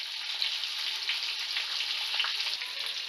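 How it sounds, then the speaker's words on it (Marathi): Stuffed eggplants frying in hot oil with curry leaves give a steady, bright, close sizzle that crackles on without pause. "आता यामध्ये आपण एक एक करून वांगं सोडणार आहोत अशा प्रकारे."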